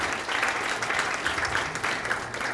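An audience applauds after a talk on the history of Japan-Armenia relations, with dense, steady clapping from a sizeable crowd filling the room, sustained at an even level throughout.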